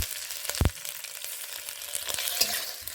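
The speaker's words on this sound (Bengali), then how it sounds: "এর মধ্যে পেঁয়াজ দিয়ে দেওয়া হলো। পেঁয়াজটাকে একটু ভেজে নিতে হবে।" Onion frying in a pan for a Bengali lentil-fritter curry, a soft continuous sizzle with a brief louder scrape or stir near the start; no talking.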